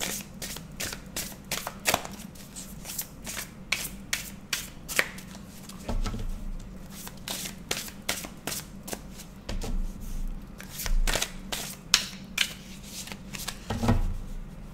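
Tarot cards being shuffled and cut by hand in a fortune-telling reading: a steady run of crisp riffling bursts and soft slaps, close and fairly quiet, with a low hum underneath and no talk.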